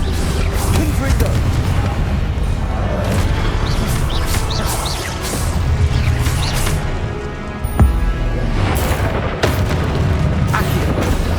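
Explosive Confringo spell blasts in the magic game Hogwarts Legacy boom repeatedly among other spell effects, a loud, continuous clash of bursts and crashes with a sharp impact near the end.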